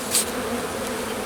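Dense honeybee buzzing at a hive in early March, a continuous close hum with no pauses and no voices over it.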